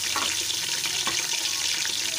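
Ginger garlic paste hits hot ghee with a steady, loud, continuous hiss and crackle of sizzling throughout, with no talking.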